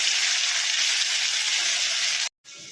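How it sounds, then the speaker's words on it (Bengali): Ginger garlic paste sizzling loudly in hot oil, a steady bright frying hiss that cuts off briefly near the end and then resumes more quietly. "গ্রেট করে রাখা আদা রসুনের পেস্টটা দিচ্ছি।"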